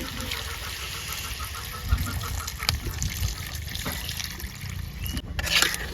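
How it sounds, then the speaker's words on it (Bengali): Water poured into a pot of sautéed potatoes and greens stems, a steady close trickle and splash over a low rumble, with a few faint knocks and no speech. "একটু জল দিয়ে দেব। একটু জল দিয়ে দিলাম।"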